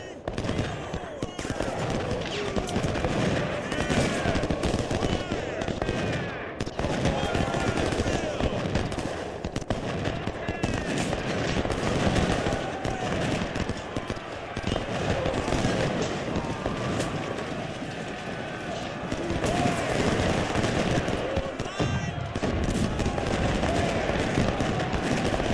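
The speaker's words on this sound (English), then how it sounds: "I've got the artillery pinned on him for now." Continuous rolling gunfire and cannon booms from a Civil War battle in the video game Ultimate General: Civil War fill the whole stretch, dense and loud, with dull artillery thumps mixed into rapid musket crackle.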